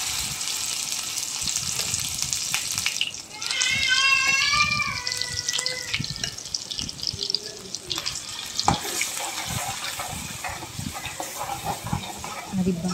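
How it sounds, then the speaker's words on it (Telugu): Ground paste is added to hot oil with crackling cumin for a butter crab roast, bursting into a loud sizzle and then settling into steady frying, with clatter and stirring throughout. "అది చిట్పట్మన్న తర్వాత ముందుగా గ్రైండ్ చేసి పెట్టుకున్న పేస్ట్ని వేసుకోవాలి."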